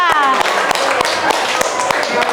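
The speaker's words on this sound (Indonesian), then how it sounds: "tepuk tangan untuk kelompok 2" A classroom applauding group 2, with a quick irregular train of sharp hand claps from a small group, close and steady, under a faint voice.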